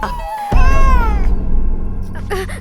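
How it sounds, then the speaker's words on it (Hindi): A house cat gives a long, rising and falling meow, close and loud over a low background rumble, followed by faint further sounds. "बिल्ली।"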